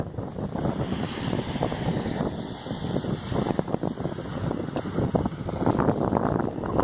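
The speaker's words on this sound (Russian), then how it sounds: "Слушайте, холодный ветер сегодня, явно северный." A cold northerly wind buffets an outdoor microphone in a street in Oryol, Russia, giving a loud, steady roar with gusty rumbling throughout and no voices.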